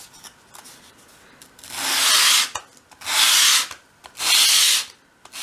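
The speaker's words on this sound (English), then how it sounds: "So start with your centre top and we're just going to bevel the long front edge." Sanding along the long front edge of a small wooden piece for a 1/12 scale dolls house wardrobe to form a bevel, in three steady rubbing strokes of about a second each, close and fairly loud, with short quiet gaps between them.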